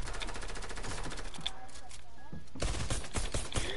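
Rapid automatic gunfire from the video game Fortnite rattles in dense bursts, mixed with game effects and players talking over it.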